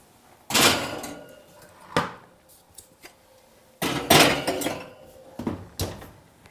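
An oven door is handled in a home kitchen while baking muffins, with several sharp knocks and clunks spread over a few seconds, close and fairly loud, with no talking.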